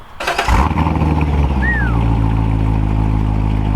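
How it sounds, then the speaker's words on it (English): A Ford Mustang GT engine with factory exhaust roars loudly and steadily, building into a deep sustained rev with a rising whine, close by and without voices. "It's crazy how good these cars sound just factory."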